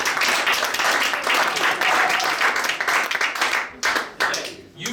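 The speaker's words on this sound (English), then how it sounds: "I just want to clap." An improv theater audience claps in loud, dense applause that fills most of the moment before thinning out into a few scattered claps at the end.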